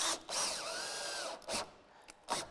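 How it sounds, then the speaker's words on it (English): A power drill drives a screw into a door frame while a single door frame is fitted, whirring in short close bursts with the pitch dropping as the screw bites, separated by brief pauses. "And I'm going to put my screw in."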